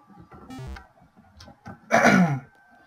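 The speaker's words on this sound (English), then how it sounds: "So I'm gonna be coughing a little bit" Someone coughs and clears their throat, a short rough burst followed by a louder, harsher throat-clearing sound near the end, close to the microphone, with no speech over it.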